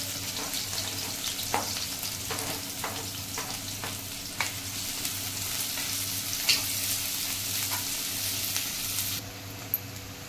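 Chopped onion with green chili frying in a pan for Maharashtrian French bean bhaji, a steady close sizzle with occasional stirring scrapes and clicks, no voices.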